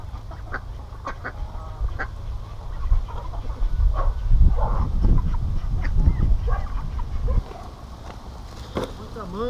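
Chickens squabble in a rural farmyard, with scattered clucks and agitated squawks over a steady background murmur that swells in the middle.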